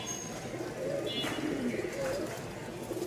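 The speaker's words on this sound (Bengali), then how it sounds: "দুই জোড়া ঘুঘু ডায়মন্ড ডাব" Diamond doves kept in a cage give soft, repeated cooing calls, faint and close, over a low background murmur.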